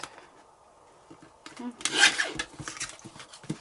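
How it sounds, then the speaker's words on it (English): A small paper trimmer slices through paper during a craft session, giving a short, close rasping cut about midway, with brief rustles and handling noises around it. "Let's just cut them off. Get my little trimmer for that."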